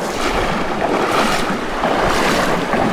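A fast-flowing creek rushes around knee-deep water on creekfront land in California, a loud, dense, continuous wash heard up close with no voices.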